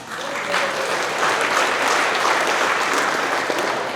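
Applause for employees' birthdays at a trucking company's monthly staff celebration, a crowd's steady clapping swelling quickly and holding evenly, fairly close, with faint voices mixed in.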